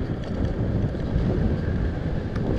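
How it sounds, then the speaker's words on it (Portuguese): Strong wind roars steadily across a microphone outdoors on a dusty road, a constant broadband rush with buffeting gusts and no talk. "Mas está ventando bem,"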